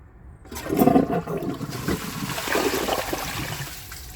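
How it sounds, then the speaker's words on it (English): A Glacier Bay high-efficiency toilet flushes with a loud rushing gurgle of water that swells, then settles into a steady draining roar, close by with no talking. "So I'm going to give this one last flush."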